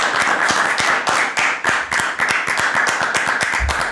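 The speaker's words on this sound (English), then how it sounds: "Everyone clap." A small group clapping in an office during a podcast recording, a loud, close, fairly even run of hand claps lasting several seconds, with no talking over it.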